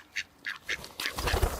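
Ducks quack close by in a quick series of three nasal calls, then a busier burst of quacking mixed with rustling and low thumps.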